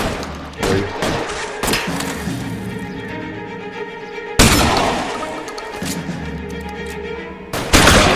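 Gunfire from a shootout in the video game L.A. Noire: repeated sharp shots and bursts, loud and close, with a few heavy bangs scattered across the stretch over a busy game-sound background.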